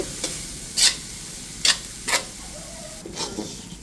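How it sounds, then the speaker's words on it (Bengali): Lentils frying in hot fish oil in a pan, a soft sizzle under several sharp scraping stirs of a spoon against the pan, close by with no talking. "এই তেলের দিয়ে এই ডালটা কিন্তু ঢেলে একদম ভেজে নেব"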